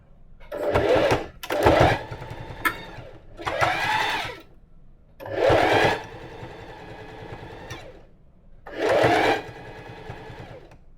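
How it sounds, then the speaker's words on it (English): A sewing machine stitches the hem band of a hoodie along the 5/8 guideline in five distinct bursts, each a rapid, close, loud mechanical whirr separated by short pauses. "this is of course back on my 5/8 guideline that I'm going to be sewing this like this"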